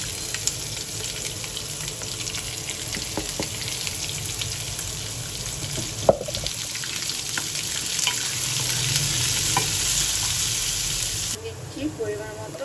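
Onion and green chilli frying with peanuts in a pan for poha, a steady close sizzle with occasional stirring clicks throughout.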